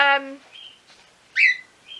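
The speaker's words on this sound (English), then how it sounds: "the other one that's really squawking in the background" Pet birds indoors squawking and chirping: a sharp, loud squawk midway and shorter whistled chirps around it, close by, following a brief burst of a higher call at the start.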